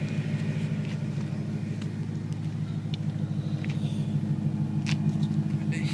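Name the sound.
BMW M3 E93 with Meisterschaft GT2 exhaust idling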